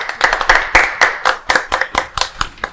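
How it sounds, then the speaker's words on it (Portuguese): A small group gives a round of applause for a guest, a language school director, with distinct, rhythmic claps close by, each hit crisp and separate rather than blending into a wash. "Uma salva de palmas."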